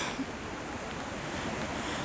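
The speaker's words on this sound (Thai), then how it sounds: "ได้ยินเสียงน้ำตกแล้วใช่ไหมคะ" Water at a waterfall on the Dalälven river in Sweden rushes in a steady, broadband roar, a constant hiss with no pauses, heard at moderate loudness with a trace of wind on the microphone.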